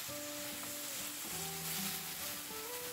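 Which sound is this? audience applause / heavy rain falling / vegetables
vegetables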